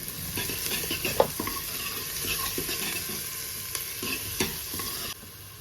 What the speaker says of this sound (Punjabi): ਹਰੀ ਮਿਰਚ ਹੁਣ ਆਪਾਂ 2-3 ਮਿੰਟ ਲਈ ਭੁੰਨਾਂਗੇ